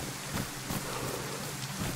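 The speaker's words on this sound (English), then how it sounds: "Rain, damn rain." Rain falling in a video game, a steady soft hiss of rainfall with a few faint low rumbles under it and no voices.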